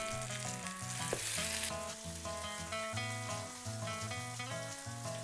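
Chicken and turkey patties with peppers fry in hot oil in a pan, a steady crackling sizzle close by, heard alone with no one talking.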